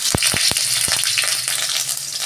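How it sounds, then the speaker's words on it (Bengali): Chopped onion fries in a pan of oil already tempered with cumin, bay leaf and chilli, a steady close sizzle broken by a few sharp clicks of a spoon. "আমি পেঁয়াজ অল্প দিচ্ছি"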